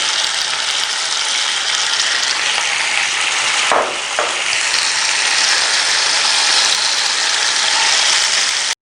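Chicken shashlik brushed with sauce cooks over a low flame, a steady, dense sizzling hiss that runs unbroken and fairly loud, with one brief scrape or shuffle partway through.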